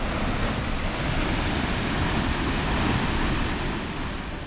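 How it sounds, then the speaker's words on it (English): Umbata Falls on the White River in Ontario roars steadily, a dense, loud, unbroken rush of falling water heard from nearby. "Umbata Falls. Here she was in all her glory."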